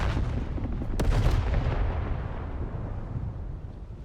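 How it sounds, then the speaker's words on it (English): A small explosion goes off in the sci-fi video game The Outer Worlds 2, a loud burst near the start followed by a long rumbling decay that fades over several seconds. "that little explosion"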